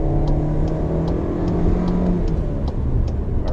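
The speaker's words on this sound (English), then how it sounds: "once the turbo kicked in, acceleration was sufficient." A 2020 Volkswagen Tiguan Allspace 1.4 TSI Highline accelerates from inside the cabin as its turbo comes on, giving a steady, loud engine drone with faint rhythmic ticking on top.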